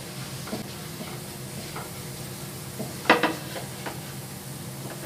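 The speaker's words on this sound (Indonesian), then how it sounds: "ini kita masak dulu tepungnya ini supaya tidak bau tepung ya" Flour cooks with onions in a hot pan, giving a soft steady sizzle and hiss, with a few scrapes and knocks of stirring near the middle.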